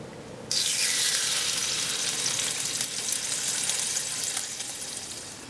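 Bacon sizzles and crackles in a pan under a bacon press, a steady, close hiss that rises sharply at the start and keeps frying evenly.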